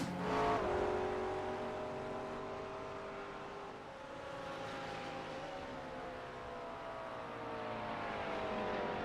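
A GT3 race car cruises through its cool-down lap at Interlagos in a racing video game, its engine a steady mid-volume drone that rises and falls through gear changes, with no one speaking.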